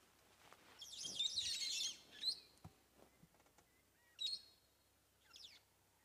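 Brown-headed parrots calling at sunrise on an African safari drive, with shrill, harsh chattering bursts, one long squawking run and several shorter calls, moderately near over quiet background.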